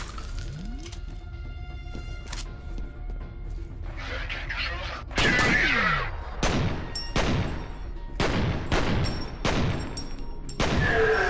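Gunfire in the video game F.E.A.R., including shotgun blasts: a series of loud, sharp shots with echoing tails, some in quick clusters and others spaced apart, over constant game ambience.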